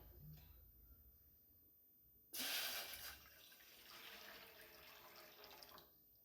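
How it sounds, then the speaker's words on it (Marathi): Water suddenly gushes into a metal steamer pot after a quiet start, loud at first, then settling into a steadier pour that fades near the end. "आता यामध्ये पाणी घालूयात"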